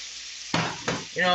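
Steady frying sizzle of bacon in a pan, interrupted by two brief louder scraping stirs, with the crackle swelling again near the end.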